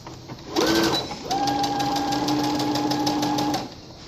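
Sewing machine running steadily as it stitches back and forth through felt while a gift bag is made, a close, continuous motor whir with a brief pause before resuming.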